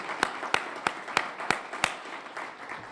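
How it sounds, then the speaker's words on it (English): A conference audience at a Bitcoin policy summit applauds, with a dense wash of clapping and several sharp, regularly spaced loud claps standing out near the front. "Give them a round of applause."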